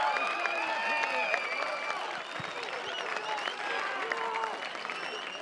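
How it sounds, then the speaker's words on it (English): Football crowd at a stadium roaring and applauding a goal that puts the home side back in the lead, a dense, sustained wash of cheering and clapping with a commentator talking over it. "Crowd excited by that goal,"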